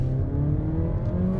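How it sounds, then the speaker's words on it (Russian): A Mazda 3 with a 1.5-litre engine is floored at full throttle. It gives a steady, strained revving drone that stays close and even, with no talk. "потому что когда мы нажимаем на педаль газа в пол,"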